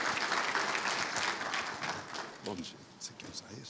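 Audience applause for a guest at a talk, a steady wash of clapping from a crowd that fades and thins toward the end.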